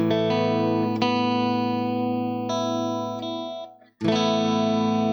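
A sustained, effect-heavy electric guitar sus2 chord in A rings out and is restrummed a few times, bright and shimmering, with a brief dip before the final strum.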